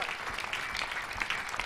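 A church congregation at a prayer service in Abuja claps, giving a brief burst of many hands clapping together at a moderate distance.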